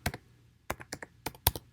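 Close-up keystrokes on a computer keyboard while typing Python code come in a quick, uneven burst of crisp clicks with short gaps, heard alone without any talking.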